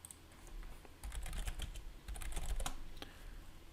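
Typing on a computer keyboard, in two bursts of rapid, uneven key clicks separated by a short pause, close and fairly quiet, with no talking.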